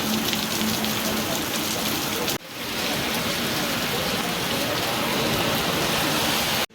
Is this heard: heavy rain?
yes